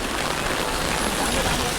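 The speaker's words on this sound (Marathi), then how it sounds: "खूप पाऊस आहे." Heavy rain pours steadily as a dense, close, continuous hiss with no pauses; a voice may be faintly present beneath it.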